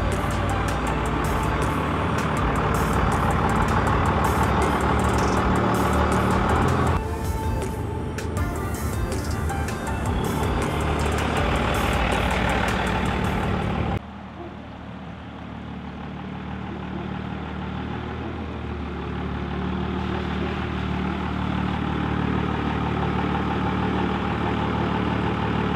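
A 24-valve Cummins diesel pickup truck drives uphill, its engine a loud, constant roar with road noise that dips and softens midway, no talking heard.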